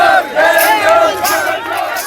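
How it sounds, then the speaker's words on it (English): A noisy crowd marches through a Muslim neighbourhood of riot-torn Gujarat, many voices shouting abuse and provocation together in loud, rhythmic chanted bursts that rise and fall close by. "As this noisy crowd passes through a Muslim neighborhood of riot-torn Gujarat, it hurls abuse and provocation."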